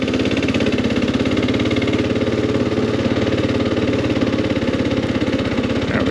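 Kawasaki KLR 650 single-cylinder motorcycle engine running steadily on an adventure ride through Linville Gorge, North Carolina, with a loud, even, pulsing thrum up close and no talking.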